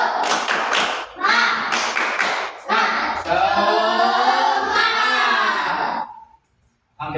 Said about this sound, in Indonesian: Untuk menambah semangat, tepuk semangat.